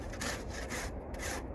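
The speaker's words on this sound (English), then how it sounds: "I love this Cody James rasp." A Cody James rasp files across wood in rough, steady strokes, a dry rasping rub with brief pauses between passes, close and moderately loud, with no talk.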